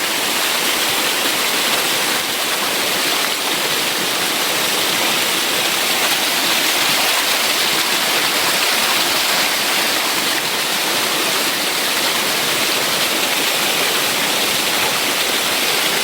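Nideck waterfall in a green forest setting, a steady, loud, unbroken rush of falling water filling the whole stretch with no other sounds.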